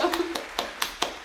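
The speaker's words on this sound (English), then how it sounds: "Guys, we have to clap." Hands clapping in quick separate claps, about five sharp claps spaced roughly a quarter second apart, close and dry, with a voice talking briefly at the start.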